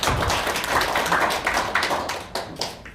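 An audience at an emergency policy forum claps loudly to welcome a speaker, a dense burst of applause that tapers off with a few scattered claps near the end.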